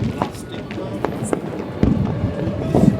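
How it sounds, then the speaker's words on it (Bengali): Diwali firecrackers burst all around in scattered sharp cracks and pops at varying distances, heard under close, steady conversation. "চারিদিকে ভীষণ বাজি ফাটছে।"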